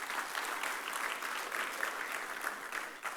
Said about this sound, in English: let us have a big round of applause for CA Nilesh Asher